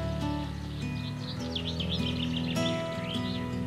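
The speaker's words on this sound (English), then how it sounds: "It is a beautiful morning and the sounds of the birds is just amazing." Birds sing in the morning beside a river, many chirping and warbling phrases overlapping close by over a steady background hum.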